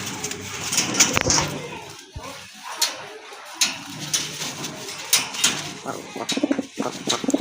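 Indian Bombay pigeons coo repeatedly in soft, throaty rolls at close range, with faint human voices in the background.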